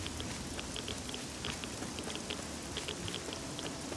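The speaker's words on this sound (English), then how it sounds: "this is the problem with rain in the wasteland. It doesn't actually help, it hurts." Rain falls in the wasteland of the video game Fallout 3 Remastered, a steady hiss with scattered pattering drops that runs through the whole stretch.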